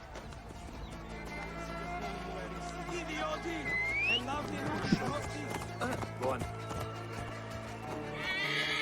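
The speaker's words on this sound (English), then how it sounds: "I should find a horse." Horse in Assassin's Creed Origins whinnies and clip-clops at a run, galloping hooves and a rising neigh under game music and a brief spoken line.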